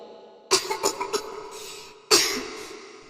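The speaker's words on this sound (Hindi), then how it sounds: "वो खांस रही थी।" A woman coughs close by: a burst of several quick coughs, a pause, then one more harsh cough trailing off.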